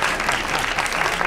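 A short burst of applause from an audience, a dense patter of clapping hands at steady loudness.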